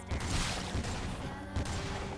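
The Chainsaw Blaster weapon fires in Lollipop Chainsaw RePOP on PS5: a loud, dense roar of rapid blasts with pounding low thumps repeating, close and continuous.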